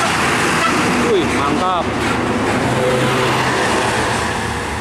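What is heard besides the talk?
heavy tronton trailer truck passing on the road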